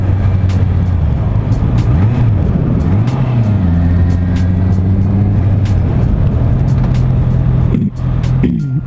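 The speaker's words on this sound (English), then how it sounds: "it seems like I have to rev the fuck out of this bike to get any power out of it" A 2018 Honda CBR650F motorcycle engine drones loud and steady while riding, its pitch rising and falling through revs and gear changes, with a short dip near the end and ticks of wind or road noise.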